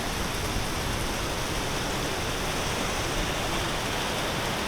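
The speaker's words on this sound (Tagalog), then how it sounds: "medyo malakas ang ulan" Heavy rain pours steadily on a flooding street in the Philippines in a dense, even hiss, loud and unbroken from start to finish.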